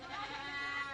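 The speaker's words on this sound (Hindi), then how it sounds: "वो एक ही बकरी है, वहाँ पे घास खा रही है जो मम्मी लेके आई थी सुबह" A single goat grazing on grass gives a brief, wavering bleat, fairly faint and at some distance outdoors in the evening.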